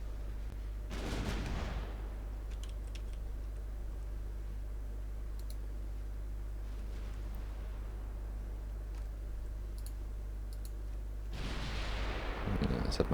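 Battleship guns firing shells in Ultimate Admiral Dreadnoughts, two broad booming blasts near the start and end over a steady low hum, with faint clicks between.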